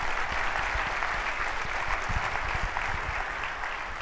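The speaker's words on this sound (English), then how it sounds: "Big round of applause for Bob." A large audience at the Destination D23 Disney fan event applauds steadily, a broad, even roar of many hands clapping that holds at constant volume throughout without speech.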